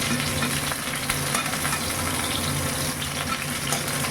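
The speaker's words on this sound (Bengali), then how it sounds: "আস্তে আস্তে ফুলকপিগুলো ভেজে নিচ্ছি" Cauliflower florets fry in oil, producing a loud, dense, unbroken sizzle with faint crackles and light stirring taps close by, no speech.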